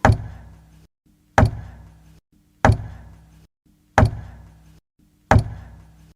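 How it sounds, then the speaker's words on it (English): Regular knocking comes through a wall: five evenly spaced, heavy thuds, each ringing out briefly before silence, muffled and steady. "Matt could hear a regular knocking"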